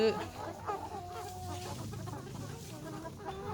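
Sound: chickens clucking

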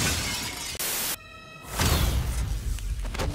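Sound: fragile glass walls shattering

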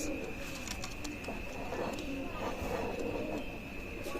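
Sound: pigeons cooing, Pakistani pigeons for sale

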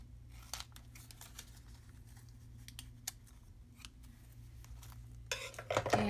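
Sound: cutting paper for a journal, likely with scissors

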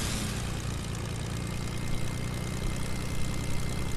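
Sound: airplane engine in Fortnite video game

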